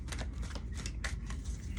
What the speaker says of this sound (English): let me go ahead and shuffle the cards now,